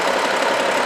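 A used car's engine idles after a cold start, a dense, even mechanical drone that holds steady and loud without change or voices for under a second.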